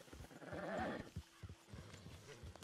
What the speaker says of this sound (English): Let's go see if I can put this horse